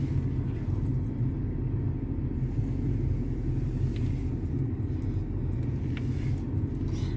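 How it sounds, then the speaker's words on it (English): A car engine rumbles low and steady while parking beside a truck, a continuous near drone with faint higher clicks scattered over it. "I'm trying to park without hitting this truck"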